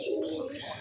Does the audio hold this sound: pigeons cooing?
yes